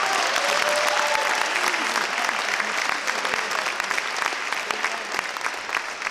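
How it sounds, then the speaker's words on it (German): A crowd at a bodybuilding competition evening breaks into loud, continuous applause, many hands clapping together in a thick wash with a few scattered cheers mixed in. "Großen Applaus."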